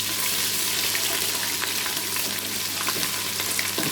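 Ginger garlic paste frying in hot oil for Lahori mutton keema, a loud, dense, continuous sizzle close up with no pauses.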